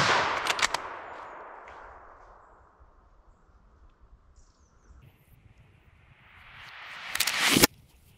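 A hunting rifle fires at a wild boar during a driven hunt in Alsace: a sharp, loud report opens with a long fading tail, and near the end a second cracking burst sounds, with no voices.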